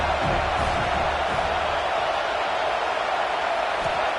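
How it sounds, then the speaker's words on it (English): Home crowd at a football game roaring in a steady, dense wash of cheering and noise, loud and continuous throughout with no distinct voices standing out. "This crowd bringing the energy and noise early"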